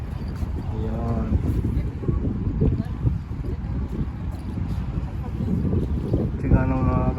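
Wind buffets the microphone in a constant rough roar in Dubai during a bike ride, with occasional faint voices and clatter underneath.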